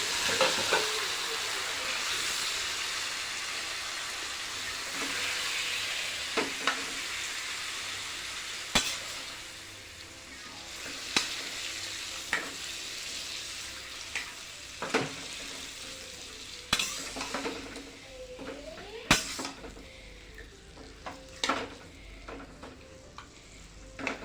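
Home-style chicken pieces fry in oil in a pan with a steady, close sizzle, punctuated by sharp clicks and scrapes from repeated stirring, with no voices.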